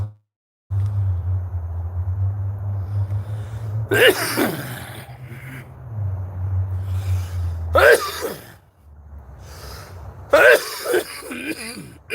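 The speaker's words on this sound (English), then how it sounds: "It's just excess smoke from the vape that gets caught in your lung. And you end up coughing like that a lot" Harsh coughing fits from inhaled vape smoke, three loud close bursts of hacking and throat-clearing spaced several seconds apart over a low rumbling hum, with no talk.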